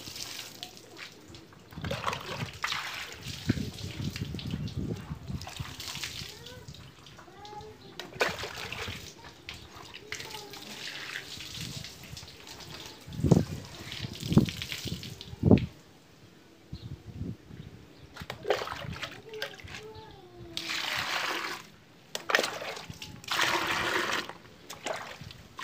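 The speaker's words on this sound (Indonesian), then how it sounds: "Ini adalah salah satu perawatan motor ya, itu mencuci motor," Water splashes and sloshes over a Kawasaki W175 motorcycle during a wash, with bursts of spraying and splattering coming and going at close range, a few sharper splashes midway, and no talking.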